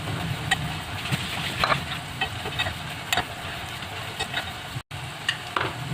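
Food fries crisply in a pan over high heat, a steady close sizzle with scattered pops and crackles running throughout, alone with no talk and one very brief dropout near the end.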